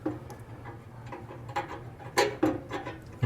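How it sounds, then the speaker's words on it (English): Light metallic ticking and rattling of a loose part fitted in a flathead windage tray, close and fairly quiet, in irregular clusters with a few sharper knocks near the end. "That's rattling a lot."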